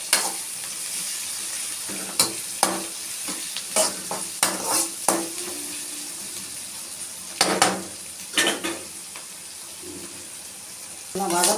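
Chicken gravy sautéing in a pan, a constant sizzle and fry broken by repeated scrapes and stirring clatters of a spoon against the pan, close up, with no talk.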